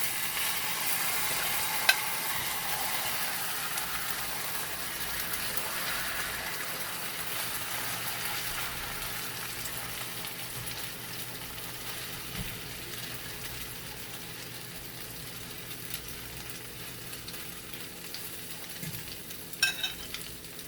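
Beaten egg with boiled wild coral mushroom fries in a hot pan, giving a steady sizzle that fades slowly over about twenty seconds, with a few faint clinks near the end.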